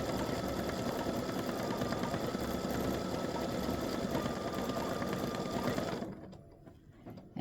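A sewing machine stitches a mug rug panel on busy fabric, its steady, fairly loud whirring running continuously for about six seconds before stopping abruptly, with only quiet room sound left afterward.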